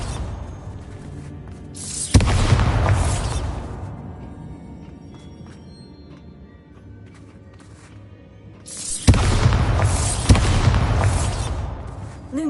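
Two heavy magical blasts from the Bombarda spell in the Hogwarts Legacy game, each a loud booming burst with a rumbling tail, several seconds apart, over quieter ambient game sound.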